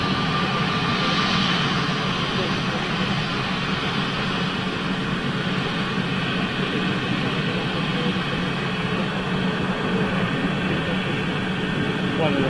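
A TAP Airbus A321 jet at Lisbon airport gives off a steady, broad engine roar and whine that holds throughout, with voices talking over it.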